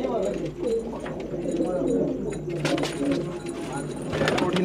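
Qasid and rangeen pigeons cooing inside a loft, soft repeated low coos layered under a steady background hum, fairly close and continuous throughout.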